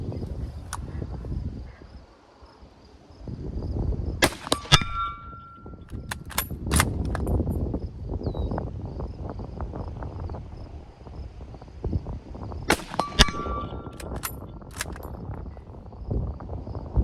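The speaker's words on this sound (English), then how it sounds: "We're gonna take some shots offhand at the metal gong." Outdoors, a Zastava M48 8x57 rifle fires cast bullets offhand at a metal gong, with a couple of sharp reports and bright metallic rings standing out over steady wind and insect buzz.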